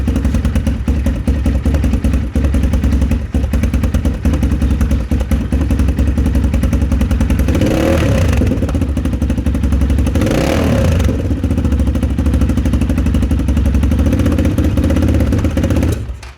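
A Vento Crossmax 330 Rally motorcycle's engine idles loudly and steadily up close with a mechanical clatter, blipped up in two short revs midway before settling back to a rough idle.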